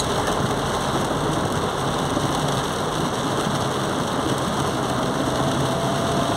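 Heavy rain falling in Lapão, Bahia, in the agricultural Irecê region of the Bahian sertão: a steady, loud, dense wash of rainfall with a low rumble underneath, continuous throughout with no voices.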